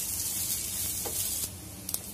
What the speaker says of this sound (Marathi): याच्यामध्ये हे तीळ, अख्खे धने आणि जिरं हे टाकायचे आपल्याला। आता हलवून परतून घ्यायचे।